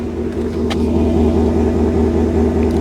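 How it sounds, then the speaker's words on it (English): Ford F-150 Tremor with a 5.0 V8 engine running, a steady, loud, deep rumbling idle heard close up and alone, with a faint light click midway. "So obviously, this V8 engine sounds awesome."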